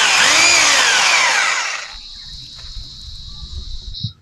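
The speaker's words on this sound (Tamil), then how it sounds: "ட்ரில்லிங் மிஷினை வச்சுன்னா ரவுண்டாக வந்து ஓட்ட போட்டு எடுத்துக்கிடுவோம்" A drilling machine bores a hole in a metal rod for an ATV bike build, letting out a loud, high, grinding whine for about two seconds before it stops and leaves faint clatter.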